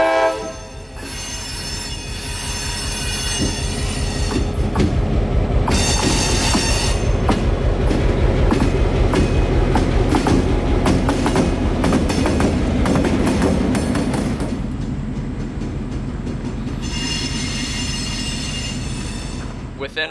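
A freight train led by YN2 locomotives rolls through a Florida rail yard. The loud, continuous rumble and clatter carries shrill wheel squeals and horn blasts that swell and ease over the stretch.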